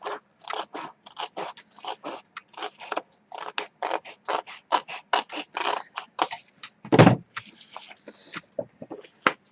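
Scissors snip repeatedly across paper to cut strips for a small handmade notebook, a close, steady run of crisp cuts with one louder crunching snip near the middle.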